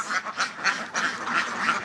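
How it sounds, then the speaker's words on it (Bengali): A flock of Jending-breed laying ducks in a shed of about a thousand birds, quacking in rapid, overlapping bursts at close range, loud and continuous with no talking. "এটি একটি রানিং ডিম পাড়ার হাঁস। এই হাঁসটা জেন্ডিং জাতের হাঁস।"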